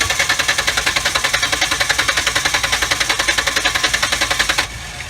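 A 2002 Mustang engine turns over with a rapid, evenly pulsing mechanical chug, loud and close, then abruptly drops to a quieter hum near the end.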